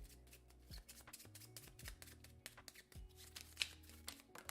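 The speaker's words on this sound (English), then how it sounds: "Let me shuffle these really good and see if we can get another one." A deck of playing cards is shuffled by hand during a solo tabletop game of Critter Kitchen, giving quick, close riffling flutters with soft card slaps between passes, fairly quiet and with no talking.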